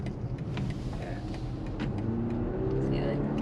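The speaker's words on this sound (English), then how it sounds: "You can hear the gas kick in when you floor it in this car" A BMW X3 30e plug-in hybrid heard from the cabin as its gas engine kicks in under full throttle, a rising engine drone and road noise under ongoing conversation.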